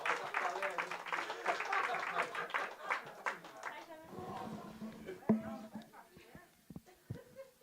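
An audience at a church gathering in Sept-Îles claps for Annie, a burst of scattered applause mixed with voices and laughter that thins out into sparse claps and talk.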